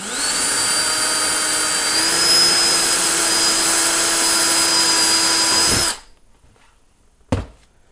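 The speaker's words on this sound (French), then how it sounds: "Il suffit de percer." A power drill whirs loudly and steadily as it bores into the wooden structure of a house, then stops abruptly, followed by a brief knock.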